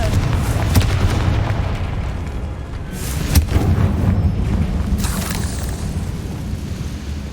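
A Confringo spell explosion in Hogwarts Legacy inside a decayed catacomb, a loud deep boom with rumbling over a continuous low drone, followed by further sharp bursts and crackling impacts.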